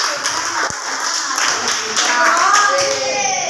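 A classroom of children claps hands together in a burst of steady, fairly loud clapping, with young voices chattering and calling out over it.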